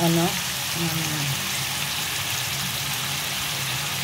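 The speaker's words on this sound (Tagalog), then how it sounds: "Gisa lang natin sa sibuyas, bawang, kamatis" Onion, garlic and tomato sautéing in a pan, a dense steady sizzle filling the whole stretch, close and even, with a brief voice at the start.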